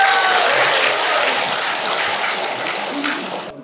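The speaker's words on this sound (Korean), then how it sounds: "큰 박수를 부탁드리겠습니다" A large crowd of Vietnam War veterans rallying outside the National Assembly applauds, a broad, hissing wash of clapping that holds steady, then gradually thins and cuts off abruptly.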